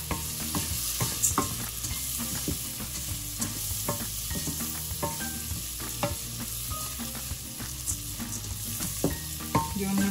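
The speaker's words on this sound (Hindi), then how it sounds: "और साथ में मैं सेवियाँ भी ऐड कर दूंगी बीच में। इसको हम हल्का सा भूनेंगे।" Vermicelli (seviyan) with cardamom is lightly roasted and stirred in a pan, a steady close sizzle broken by frequent scraping and clicking stirs, with no talking.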